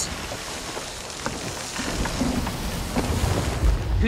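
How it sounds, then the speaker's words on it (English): Steady rain patter aboard a ship at sea in the video game Sea of Thieves, with gusts of wind and creaking, washing noise, growing a little louder toward the end; no talking. "Could you tell by the rain, Captain?"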